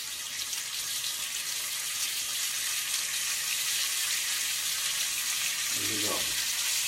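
A beef fillet sizzles with butter in a hot pan, a steady, close hiss of frying that runs the whole time, with a brief low clunk near the end.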